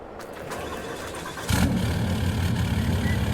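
A Cummins truck engine in Farming Simulator 22 cranks briefly, then fires and settles into a loud, steady low rumble that runs to the end.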